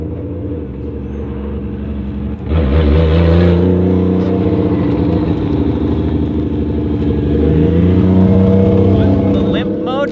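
A Lexus IS300 fitted with a 1JZ engine idles, then rises into a steady, loud, droning rev as the car drives off, the note staying close and sustained, with people talking faintly over it.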